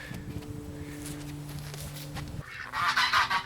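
Geese honk loudly nearby toward the end, after a stretch of low ambient hum and faint shuffling.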